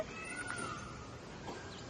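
A cat at a park hotel gives a couple of faint, thin meows over quiet outdoor background noise.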